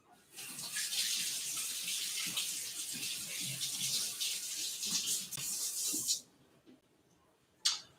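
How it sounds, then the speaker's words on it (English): A kitchen tap runs steadily while hands are washed under it for about six seconds, a broad close hiss that stops abruptly, followed by a brief splash or clatter near the end. "Let me wash my hands."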